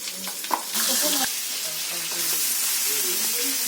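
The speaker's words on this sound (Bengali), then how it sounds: "মাথাটা আমি ভেজে নিচ্ছি।" Rohu fish head sizzles and spatters in a hot pan, cooked with a little ginger, cumin and onion paste; a loud, steady frying hiss kicks in after a brief utensil knock and carries on close up.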